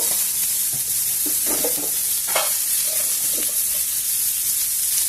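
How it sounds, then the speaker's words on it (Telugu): Onion pieces frying in oil in a pan for raw tamarind chutney, stirred as they cook: a steady, close hiss of sizzling runs throughout, with scattered scraping stir strokes and no speech. "కొద్దిగా వేయించుకున్నాము ఉల్లి ముక్కల్ని వేగిన ఉల్లిపాయ ముక్కలు"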